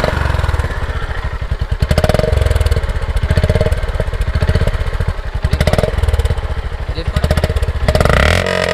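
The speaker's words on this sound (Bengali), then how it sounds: "এবারে তুমি একটু ইঞ্জিনটা অন করো, সবাইকে একটু এক্সস্ট নোটটা শুনিয়ে দাও।" A Honda CB350 motorcycle engine idles with a steady, thumping exhaust note, loud and close, a rhythmic low pulse that holds throughout with a slight rise near the end.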